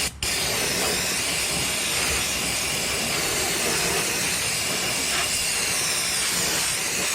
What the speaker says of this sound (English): Grab your parts brake cleaner.